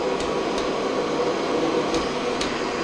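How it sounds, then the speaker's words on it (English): A carpet-cleaning vacuum runs steadily on carpet, a close, continuous broadband roar with faint periodic ticks, no voices. "I try to talk loud enough so you can hear me over the noise of the vacuum"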